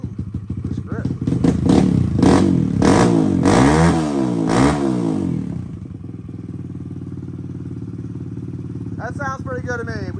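A Kawasaki KLX140 dirt bike with stock carb, Big Gun exhaust and modified airbox revs hard in several rising and falling throttle blips, then drops to a steady idle before a short rev at the end, with some talking over it.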